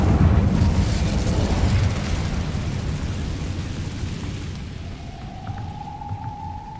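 A fire spell blasts out in Hogwarts Legacy, a dense roaring rush of flame with a booming low rumble that fades slowly over several seconds, followed by a faint steady whine near the end.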